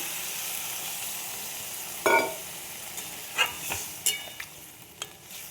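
Vegetables with tomato cooking in a pan, a low steady sizzle with a few sharp splashes and stirring clatters as water is poured in, each burst brief and close.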